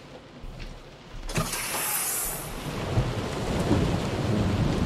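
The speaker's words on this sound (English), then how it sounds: "It's raining." Steady rain pours over a rolling rumble of thunder in the horror game Close to the Sun, the storm swelling from a soft hiss into a dense, continuous downpour.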